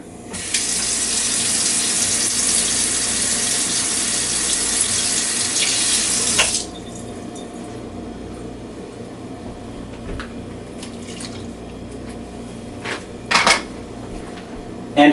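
Water running from a kitchen tap while cooking, a steady hiss for about six seconds that then stops, followed by quiet kitchen handling and a few clicks.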